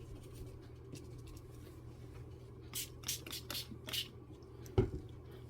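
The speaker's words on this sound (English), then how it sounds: "And then I'll spray it with some water and let it do its own thing." A small spray bottle mists water onto mixed media tag paper in a few short hissing bursts, faint and close, with light handling sounds around them.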